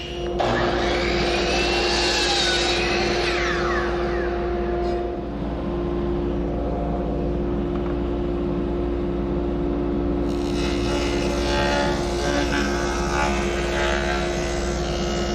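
A saw rips lumber lengthwise for miter saw cabinet work supports, a loud, steady whine that runs continuously through the whole stretch with a slight dip midway and no talking.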